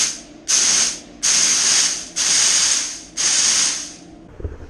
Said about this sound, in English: I'm going to actually purge out the lines